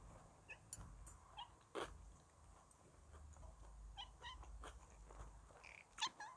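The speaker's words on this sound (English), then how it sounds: "A cat." A pet cat makes faint, soft sounds indoors during a vegan mung bean pancake meal, with brief quiet noises scattered through a low background hum and no talk.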